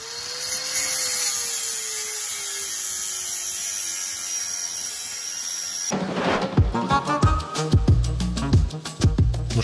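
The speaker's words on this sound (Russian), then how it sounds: "система снятия старого забора болгаркой понятна" An angle grinder cutting through an old fence at a Soviet-era dacha, a sustained high whine that gives way to harsh, choppy grinding bursts with uneven loud peaks.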